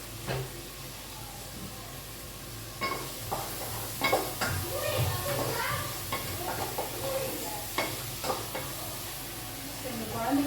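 Onion, carrot and beans sauté in a pan with a steady soft sizzle, broken by scraping stirs and a few clattering knocks of a utensil against the pan, close by, with faint background voices.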